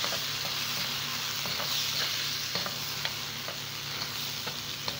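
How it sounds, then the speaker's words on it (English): Onion and tomato fry together in hot oil, giving a loud, even sizzle with faint periodic clicks of stirring throughout. "So guys, the oil is hot. We now put the onion and tomato. We fry them"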